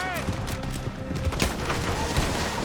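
Rapid gunfire in Red Dead Redemption 2, a dense burst of overlapping shots over game noise, loud and close, with a shouting voice partly over it.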